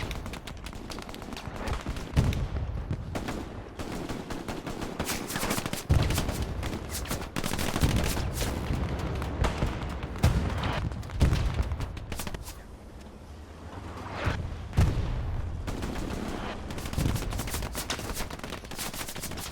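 Gunfire in the World War II shooter Hell Let Loose, with repeated bursts of rifle and machine-gun shots cracking at close and middle distance over a busy battlefield backdrop for the whole stretch.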